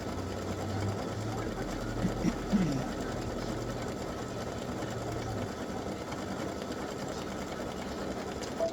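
An embroidery machine stitching an applique design runs with a steady, fast mechanical chatter and a low motor hum, close and continuous throughout.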